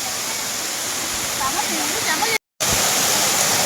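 Daringbadi waterfall pours in a steady, loud broadband rush that fills the scene, with a brief dropout partway through and faint voices mixed under the roar.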